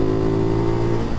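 A Ducati Hypermotard 698 Mono single-cylinder engine with a Termignoni exhaust drones loudly and close up at a steady pitch, a sustained buzzing tone that dips slightly at the end, with no talking.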